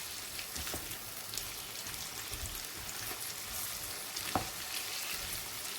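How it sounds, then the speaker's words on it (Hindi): Cauliflower fries in a pan for aloo gobhi, giving a steady, dense sizzle and crackle throughout, with a few louder pops and spatters and no voices. "देखिए हमने तकरीबन से 3 या 4 मिनट हमने इसे फ्राई किया है"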